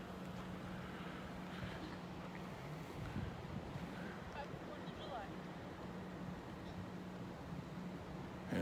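Steady breezy wind blows outdoors near a wildfire area at Quartz Hill Road in Redding, a constant broadband rush filling the whole stretch with mild gusts and no clear voices.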